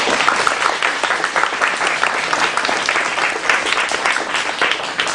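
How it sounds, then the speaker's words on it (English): Audience at a Seoul Book Club event giving a big round of applause for a guest author, loud, dense, sustained clapping from many hands throughout, with no speech over it. "let's give a very big round of applause for our wonderful guest"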